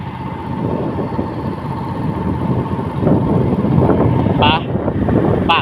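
A boat engine drones steadily on the Mekong River, mixed with heavy wind buffeting the microphone and a few faint higher chirps near the end.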